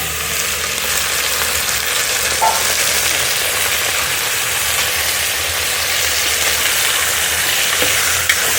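Mutton sizzles in hot oil with onions in a pan, a loud, steady crackling hiss that runs unbroken throughout, close up with no voices.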